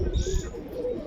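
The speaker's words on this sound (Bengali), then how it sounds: "খুবই সুন্দর পায়রা আছে মাদা পায়রা এটা" A female pigeon cooing close by, a short low throaty coo with a brief faint chirp above it.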